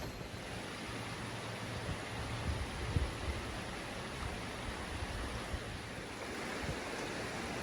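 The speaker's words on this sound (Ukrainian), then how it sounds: "Це гірська річка, вона чиста" A clean mountain river flows steadily with a soft, even rush of water, fairly quiet and unbroken, with no voices.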